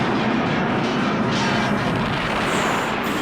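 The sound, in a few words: explosion in the movie Superman III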